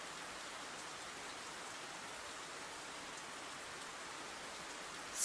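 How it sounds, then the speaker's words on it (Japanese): Steady rain falls in a scene from the video game World End Syndrome, a dense, even hiss that holds at the same level throughout with no voices over it. "雨降ってきちゃったかい？"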